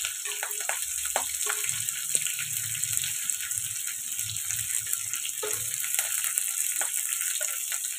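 Onions, green chillies and curry leaves frying in hot oil, a steady close sizzle with light stirring clatter throughout and a faint voice now and then underneath.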